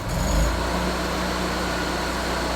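A Miller Trailblazer 325 EFI engine-driven welder revs up to 3,600 RPM as the trigger feeds wire: a steady, loud engine drone with a brief surge at the start, then a sustained even hum.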